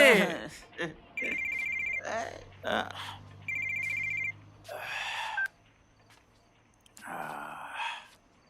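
A telephone rings in two long electronic bursts, separated by breathy sighs and gasps, with a short low voice between rings.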